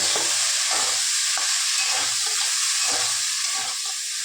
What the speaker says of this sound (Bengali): এই যে বরবটি আলু চচ্চড়িটা বসিয়েছি